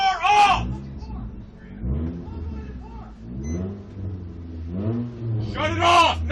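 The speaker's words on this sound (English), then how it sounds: "He's still got the car on." A car sits with its engine running during a police stop and revs in surges that rise and fall, while people shout loudly over it.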